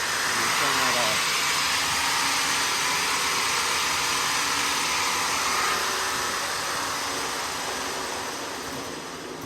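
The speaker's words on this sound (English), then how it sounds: "I've just pushed in the e-stop to make the brake come on to stop it faster" A wide belt sander roars loudly with a broad rushing hiss after its e-stop brake is engaged, the sound holding steady and then starting to fade toward the end.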